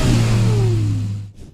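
A Lexus LFA engine roars loudly nearby, its pitch sliding downward as the revs drop, then cuts off abruptly.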